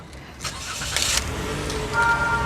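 A 2021 Toyota Avanza 1.5 G with CVT starts up, a short whirring crank into a steady engine hum heard from close range, with a faint chime toward the end.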